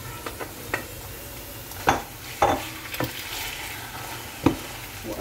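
Chicken breast and softened onion stir-frying in a pan, with a steady background sizzle broken by several sharp utensil scrapes and clanks against the pan at irregular intervals, close and fairly quiet, with no talking.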